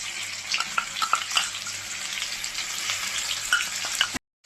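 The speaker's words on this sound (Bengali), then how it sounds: "এখন ধনে আর জিরা বেটে রেখেছিলাম, দিয়ে দিচ্ছি।" Ground coriander and cumin paste hits hot oil in a pan for a vegetarian soybean curry. A steady, close sizzle and crackle runs throughout with small pops and brief stirring scrapes, then cuts off abruptly at the end.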